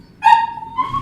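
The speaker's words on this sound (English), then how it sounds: "Boy, they loud for two small dogs." Two small dogs let out a quick high yip followed by a longer whining, tonal bark, close and fairly loud, with no talking over them.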